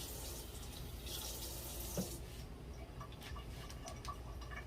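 Tap water runs steadily into a kitchen sink while a pot is washed during potato porridge preparation, a continuous close hiss with a brief clink near the middle and faint clatter later, no voices.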